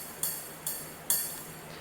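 Three evenly spaced programmed ride cymbal hits from FL Studio ring out alone, each a bright shimmering ping that decays into a sustained wash.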